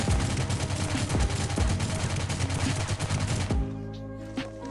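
Rapid automatic AK rifle fire in the Rules of Survival video game, a dense loud burst of shots lasting about three and a half seconds before stopping, leaving a quiet ringing tail and a few faint clicks.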